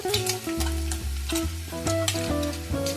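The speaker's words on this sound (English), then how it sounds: "Stir fry until the pork belly becomes slightly brown." Pork belly stir-fried in hot oil in a pan, a steady close sizzle with repeated scraping strokes of a spatula throughout, no voices.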